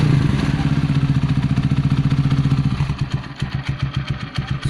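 Gamma 200 motorcycle fitted with an Akrapovic carbon fiber muffler, rumbling loudly at idle up close, then breaking into a choppy, pulsing burble with rapid uneven exhaust pops in the last two seconds.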